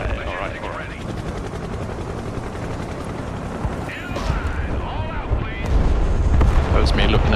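Artillery strike explosions in the video game Broken Arrow boom and rumble amid helicopter drone and machine-gun bursts, building louder toward the end, with players talking over the battle.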